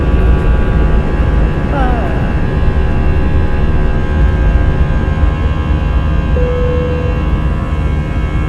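An airliner takes off from Tenerife with a loud, constant engine roar filling the cabin, a steady broadband drone with a faint tonal whine and a brief rising sweep.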